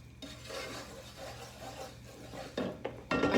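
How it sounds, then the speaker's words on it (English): A spoon scrapes and rasps steadily through homemade playdough mixture in a pot on the stove, soft and close, ending with a few sharper louder scrapes against the pot. "You're going to stir and stir and stir until it gets to the consistency that you would like."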